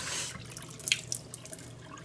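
Water runs steadily from a newly installed Delta Corin wall-mounted faucet, a soft continuous hiss with faint drips and splashes, close by and alone.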